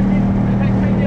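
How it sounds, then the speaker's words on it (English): A boat's outboard motor drones loud and steady up close, a low continuous engine rumble with voices talking over it. "I hope you heard all that with the outboard going in the background."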